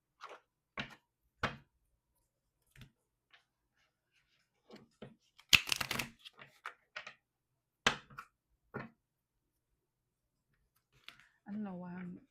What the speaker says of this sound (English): I don't know why I'm like shuffling like hardcore.